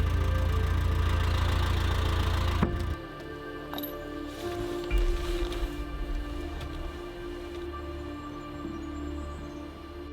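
A narrowboat engine with a fault runs at idle, a loud low chug for a few seconds before dropping to a quieter uneven knocking and rattle, with faint scattered clanks.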